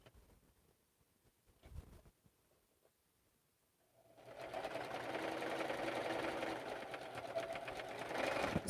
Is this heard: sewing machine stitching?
yes